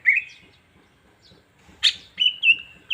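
A cucak ijo (green leafbird), a caged songbird in heightened breeding condition, gives a few sharp, close chirps and whistled notes in short bursts with brief pauses between them, heard clearly against a quiet background.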